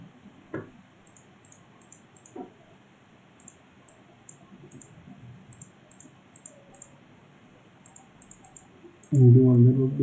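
Mouse clicks while editing a composite in Photoshop: sparse, soft, isolated clicks against quiet background ticking, then a voice starts speaking at the very end.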